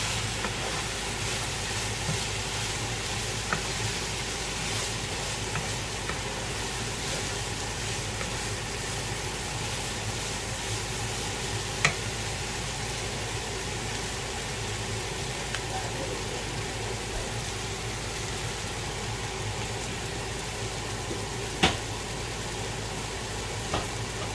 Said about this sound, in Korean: 굴린 쌀을 참기름 굴린 데다가 양파 넣고 쌀 넣고 그러면에 새우 넣고 일단 볶네요.